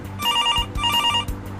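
A portable bass-toned phone rings in repeated electronic bursts, each a short trilling pulse with brief gaps, loud and close with nothing else around it.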